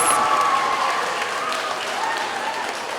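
Students at an elementary school assembly applaud, a steady even wash of clapping at moderate volume heard from a distance, with a faint tone running beneath.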